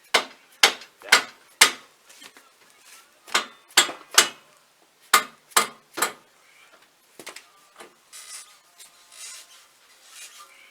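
A hammer striking a control arm downward on a 2010 Volkswagen GTI after the ball joint bolts are removed: sharp, loud metallic blows in clusters of two and three, followed by quieter scraping.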